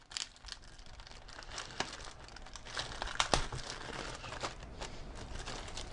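Cardboard and plastic packaging of a Presonus Eris 4.5 passive studio monitor speaker being unpacked, with steady close crinkling and crumpling, a few sharper tearing snaps, and no talk.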